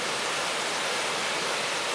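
Iron Creek Falls pours in a steady, broad rushing roar of falling water, loud and unbroken, with no voices.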